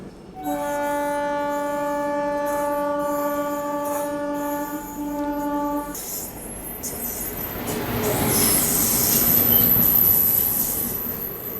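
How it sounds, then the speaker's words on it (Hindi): The Puri Tirupati Express arrives behind a WAG-9 electric locomotive at an Indian railway station, opening with a long sustained horn, then rolling wheels and rising rail noise with high wheel squeal as the train passes close by. "सामने से पुरी तिरुपति एक्सप्रेस जो है वो आ रही है वैग 9 के साथ"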